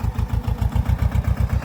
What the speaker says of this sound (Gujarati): અને જો ટ્રેક્ટર ચાલે છે